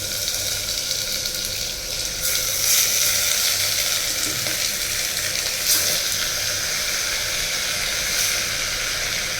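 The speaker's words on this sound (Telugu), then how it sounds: "ఇదిగోండి మటన్, మటన్ వేస్తున్నాను చూడండి" Mutton sizzles and fries in hot sesame oil, a steady close hiss and crackle with a few louder spits, heard alone without talk.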